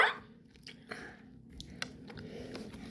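Quiet bites and chewing on something crunchy, a few soft crunches scattered over a near-silent background.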